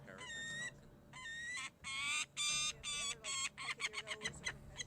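A falcon gives a series of harsh, high, repeated calls, starting with longer spaced cries and speeding into quick chattering notes, fairly faint and with no talk over it.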